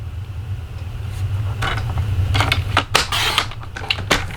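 Card stock being trimmed to size for a handmade Easter card, a run of crisp slicing and scraping strokes over a low background hum, close and fairly loud, no speech.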